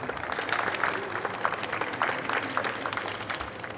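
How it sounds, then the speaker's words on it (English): Audience applause for the Senior OKN karting podium finishers at an outdoor race event, a continuous patter of many hands clapping at moderate distance, fairly even throughout. "big round of applause for Senior OKN"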